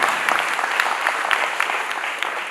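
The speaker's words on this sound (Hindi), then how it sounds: "एक बार जोरदार तालियां" An audience claps together at a spirituality talk, a dense steady burst of applause held at even loudness throughout, filling the room with no voice over it.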